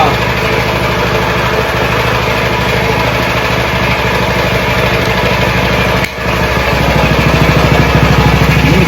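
A Baja minibike with a Hemi engine idles loud and close in a steady, unbroken drone, dipping briefly for a moment before carrying on.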